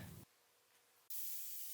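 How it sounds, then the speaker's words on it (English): Spray lacquer hisses from an aerosol can onto wooden slices cut from an old Christmas tree, heard as a short close burst, then a pause, then a louder steady hiss that continues to the end. "I put on a couple coats of spray lacquer to help protect it"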